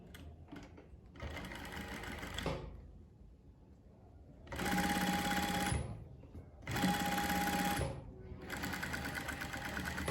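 A sewing machine runs in several loud close bursts while stitching a single welt pocket, rapid needle rattles separated by short pauses, with a few quieter handling sounds in between.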